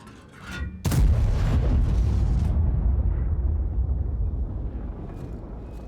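A Grille 15 tank destroyer's main gun fires once in World of Tanks, a loud, heavy boom whose deep rumble rolls on and slowly decays over several seconds.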